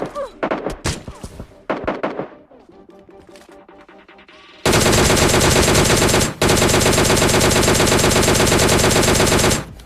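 Gunfire in a shooter video game: a few scattered loud shots early on, then a long, loud, continuous burst of automatic fire with one brief break.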